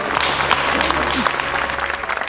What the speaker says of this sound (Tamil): எல்லாத்துக்குமே ஒரு பெரிய கைத்தட்டல் கொடுக்கணும்